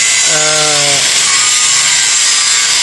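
A welder lays a root pass in the vertical position, giving a loud, steady hiss and sizzle of the arc throughout, with a brief humming tone early on.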